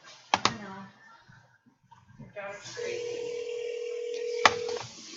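A phone number is keyed in as a few short beeps, followed by a long, steady tone. Quiet talking runs in between the beeps.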